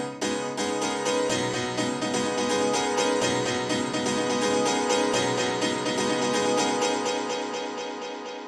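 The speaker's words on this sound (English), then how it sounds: "now we will have our echo, which sounds like this" Music run through an echo effect set to 1.5 beats on a Hercules DJC Inpulse 500 DJ controller, with dense repeating tones and beats at steady loudness that trail off toward the end.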